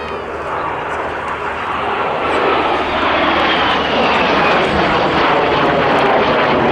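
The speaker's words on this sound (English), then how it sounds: "Light jet attack aircraft, counterinsurgency and training machine." A BAC Strikemaster light jet attack and training aircraft flies an air display at the Midlands Air Festival, its loud, steady jet roar swelling slightly as it passes and filling the whole stretch.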